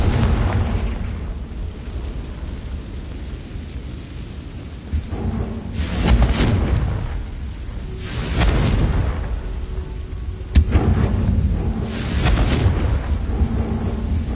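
Confringo fire-blast spells going off in Hogwarts Legacy: several loud booming explosions, one near the start and others roughly every two seconds later on, each swelling and rumbling before fading.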